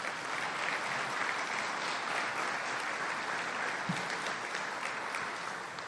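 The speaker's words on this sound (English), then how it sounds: "Can we give them a big round of applause?" Audience applause fills a municipal election panel hall, a steady, even wash of many hands clapping at moderate distance that holds for the whole stretch without a voice breaking through.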